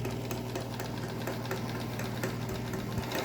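A sewing machine stitches along the edge of a two-layer cotton face mask, reversing into a backstitch over the tie, running as a steady close mechanical whir with faint rapid needle ticks and a low motor hum throughout.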